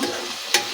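Boiled tomatoes stirred in a cooking pot, a short soft scraping and sloshing with a brief sharper scrape near the end, close and alone.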